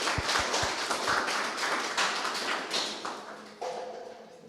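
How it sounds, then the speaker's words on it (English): A crowd gives a short round of hand clapping for a team at the Nairobi Global Game 2022 final day, a dense patter of claps that thins out before a brief murmur of voices near the end. "A hand clap for them."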